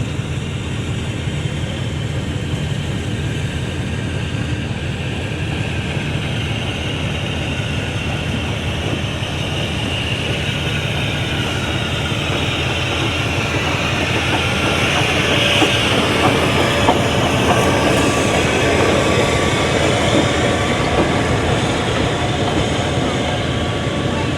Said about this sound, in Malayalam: ആ വരുന്നതാണ് നമ്മുടെ സ്റ്റീം എൻജിൻ